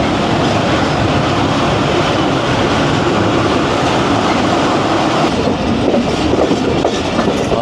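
The Jaffar Express roars loudly and steadily as it brakes on its approach to Jhelum station, a dense continuous rumble of wheels and carriages with no pauses.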